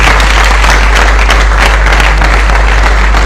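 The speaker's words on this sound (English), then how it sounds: "Let's do it better with a big round of applause." Big round of applause fills an auditorium as an incoming national women's organizer walks in, dense steady clapping from a large crowd sustained throughout at loud level.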